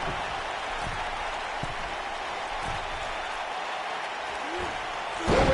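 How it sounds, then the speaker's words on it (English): A wrestling arena crowd in the video game WWE 2K19 roars in a steady, dense wash of cheering and applause, swelling into a louder burst at the very end. "Listen to this crowd."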